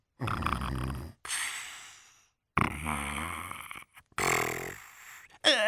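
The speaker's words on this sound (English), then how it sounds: "The man in the newspaper kiosk had his head on a pile of the Tiredsville Times and was gently snoring." A man snoring, given as gentle snoring while asleep with his head on a pile of newspapers in a newspaper kiosk, in several close rasping bursts separated by short silences.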